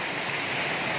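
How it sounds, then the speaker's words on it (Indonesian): Steady broadband rush of a waterfall at Curug Air Bagus in North Bengkulu, a dense continuous roar close by with no pauses, filling the whole second with no voices over it. "Kita sudah di air terjunnya."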